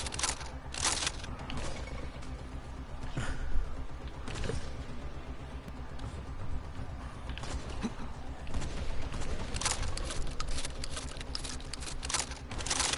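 A shotgun fires at zombies in Dying Light, loud sharp blasts going off repeatedly at irregular intervals over a busy background of game noise and clatter.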